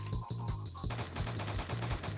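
Rapid automatic gunfire from a gun in the shooter game Phantom Forces, a fast steady stream of sharp shots close and loud for the whole stretch, with no talking.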